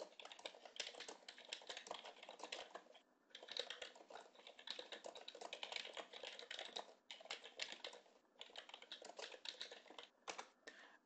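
Someone types fast on a computer keyboard at close range, a quiet, dense run of key clicks in bursts with a few short pauses, and nobody speaks.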